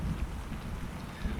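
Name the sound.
rain falling outside a bus, audio-drama sound effect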